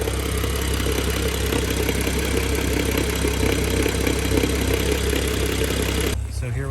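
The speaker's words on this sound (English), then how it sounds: "I have my hood open so you can hear the injector tick" A BMW N55 engine idles steadily with the hood open, a continuous mid-low hum carrying a faint, fast ticking from the fuel injectors, cutting out abruptly near the end.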